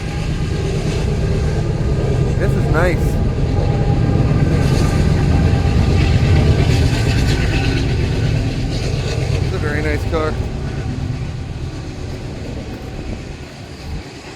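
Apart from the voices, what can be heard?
train passing by at a car show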